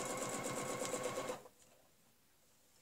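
A sewing machine stitches a rope border along a ruler, running fast and steady for about a second and a half before stopping, followed by near silence.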